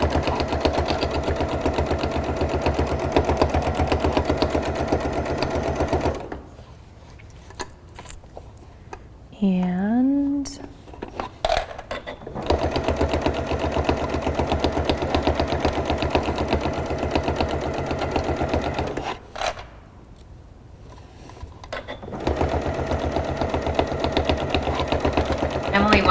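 A Gnome 9450 sewing machine stitches a zipper pouch with a steady, close mechanical whirr that stops for short pauses, and a voice is briefly heard during one of the breaks.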